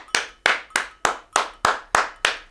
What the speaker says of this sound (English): Let's go ahead and clap it up for you guys.